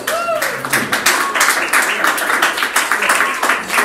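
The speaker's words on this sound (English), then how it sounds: "That was one notch above golf clapping." An audience claps steadily for a few seconds, a moderate round of applause with a brief voice at the start.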